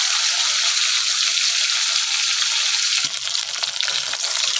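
Two fish of about 150 grams each fry in hot oil, a loud, continuous crackling sizzle that briefly dips and shifts partway through as they are moved, then resumes.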